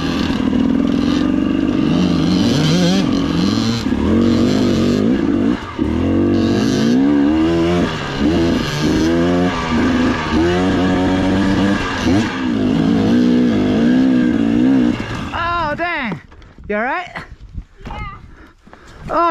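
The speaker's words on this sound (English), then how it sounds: "Riding a KX100 up here in the mountains." Dirt bikes, including a Kawasaki KX100 and a KTM 250, climb a mountain trail in Colorado, with engines revving and labouring continuously up close, then rising and falling in pitch near the end as riders shout and talk over them.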